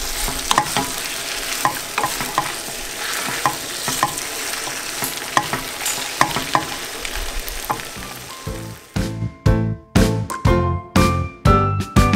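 Bacon bits sizzle steadily in a pan, a dense close crackle, then give way to a series of sharp, rhythmic stirring scrapes and clatters near the end.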